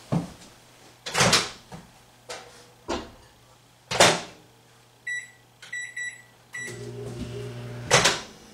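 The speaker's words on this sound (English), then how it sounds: "And warm it in the microwave just until it's warm." A microwave oven warms two cups of milk, with a low steady hum under several door clunks and thumps, followed by bursts of electronic beeps and a final click.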